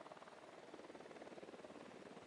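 Steady rotor chop of a video game helicopter, a rapid pulsing whir holding constant throughout at moderate distance, with no voices.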